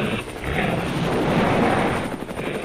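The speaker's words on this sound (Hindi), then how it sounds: "उस वोल्फ को रोकने के लिए अमित ने फाइटर हेलीकॉप्टर्स मंगवाए" Cartoon fighter helicopters in flight, a steady loud rotor drone with a rapid chopping pulse that swells in the middle and holds without a break, and no voices over it.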